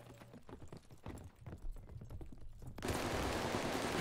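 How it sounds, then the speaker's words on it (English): Rapid bursts of Sten submachine gun fire in a first-person shooter game, crackling in quick uneven volleys before a dense, continuous roar of gunfire takes over near the end. "I think someone's shooting at him right now."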